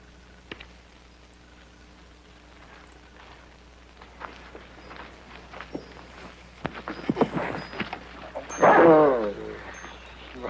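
A dog in an old black-and-white television drama yips and whimpers, building from faint scattered sounds with footsteps to a loud burst of excited barks and whines near the end.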